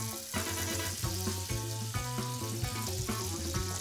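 Butter melting into about two tablespoons of hot olive oil in a skillet, crackling and popping in a steady, close sizzle that rises and falls slightly, with no voices.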